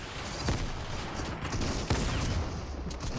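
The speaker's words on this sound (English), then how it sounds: "I swear there were like 7 nades that landed on him just now." Rapid volleys of grenade blasts in a competitive video game match, dense overlapping explosions with a couple of sharper bursts standing out from a constant loud barrage.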